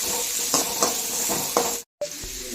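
Shallots and green chillies sautéing in a pan, a steady close sizzle with several stirring scrapes, then a brief cut to silence before the frying resumes.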